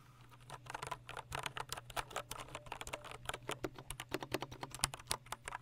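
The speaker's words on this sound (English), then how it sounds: "And now you guys want a little ASMR? Keyboard ASMR." Rapid, uneven keystrokes clatter on a heavy, well-built computer keyboard, recorded close up with no talking, just a continuous patter of key presses over a low hum.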